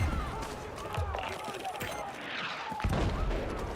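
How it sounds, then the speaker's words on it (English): Mortar blasts and gunfire in the war video game Battlefield 6, with repeated booms and crackling shots at mid distance amid a busy battlefield din, and voices faintly under the action. "Okay, they got mortars now."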